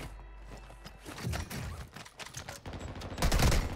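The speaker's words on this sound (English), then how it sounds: "Ah, I'm just getting shot." Gunfire in the shooter Warzone 2 crackles in rapid, irregular bursts mixed with thuds and movement, fairly loud and busy, building toward the end with no talk.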